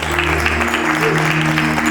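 Applause from the audience at a Punjabi-American community association's annual appreciation dinner, a steady, dense wash of clapping filling the whole stretch at full level, with a low hum running beneath.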